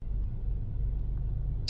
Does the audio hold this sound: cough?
no